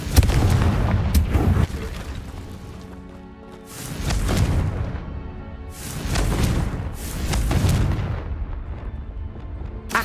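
A Confringo blasting spell in Hogwarts Legacy sets off several heavy booming explosions, close and loud, each followed by rumbling decay, repeating across the stretch with no voices.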